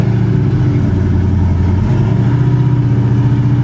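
Loud, close engine roar from a 1966 Chevy Impala pulling hard in first gear, its pitch climbing slightly as it accelerates, with no voices over it.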